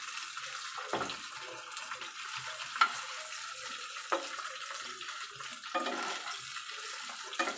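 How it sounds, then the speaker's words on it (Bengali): Meat fries in a pan while the pieces are turned over, a steady sizzling hiss broken by several scraping stirs and clacks, close and fairly loud, with no speech. "তো মাংসগুলো আমি একটু উল্টিয়ে দিব।"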